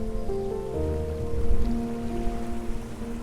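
Soothing ocean waves wash softly beneath calm, sustained music for relaxation at bedtime, a steady broadband hush under the held tones.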